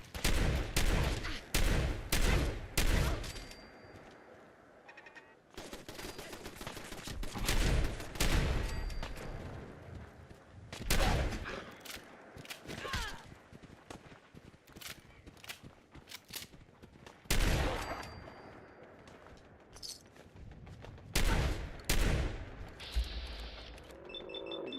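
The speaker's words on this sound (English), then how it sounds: "I'm coming in with a shotgun" Loud shotgun blasts and other gunfire in a video game, repeated in irregular bursts with heavy booms and quieter stretches between, some rapid clusters of shots at the start and end.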